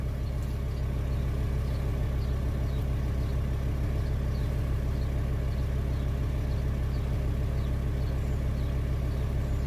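A Volkswagen T5 van's diesel engine, running without its particulate filter, idles steadily and loudly with a deep, even rumble that holds constant throughout.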